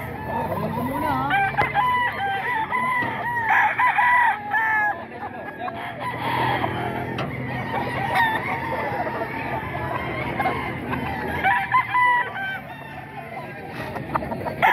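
Chickens and roosters at the Bocaue tiangge market, with repeated crowing and clucking close by while people talk throughout.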